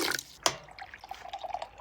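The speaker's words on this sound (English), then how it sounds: "I'm gonna pour a Coke into the top and see what color it comes out." Coke poured into the top of a countertop water filter drips and trickles in scattered, fairly quiet drops and small splashes, with a couple of sharper clicks near the start.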